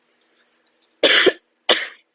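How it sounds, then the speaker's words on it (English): Two short, sharp coughs, close up, separated by a brief pause, with faint background ticks before them. "Something is just activating my cough."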